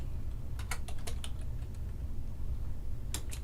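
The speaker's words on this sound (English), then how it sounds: "I'm probably going to type who I am." Keystrokes on a computer keyboard while entering a name on a PowerPoint title slide, arriving as a few scattered quick taps, a brief pause, then another short pair, all over a steady low hum.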